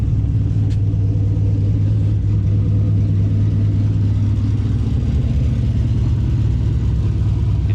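A turbocharged LS V8 engine in a C10 truck, cold-started in extreme cold with the exhaust cut out open, idles with a steady, heavy low rumble, loud and close, running without pause.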